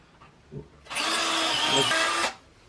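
Power drill boring a hole for large screws while assembling an IKEA NORBERG wall-mounted drop-leaf table, one steady loud whine lasting about a second and a half, preceded by a faint click.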